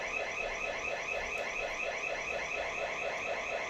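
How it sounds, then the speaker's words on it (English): A house alarm going off indoors, a loud continuous electronic tone warbling in a fast repeating pulse, with no voices. "someone let the alarm go on"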